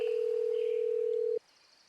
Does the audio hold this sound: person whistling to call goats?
no